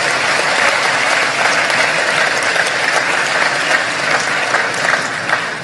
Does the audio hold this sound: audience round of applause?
yes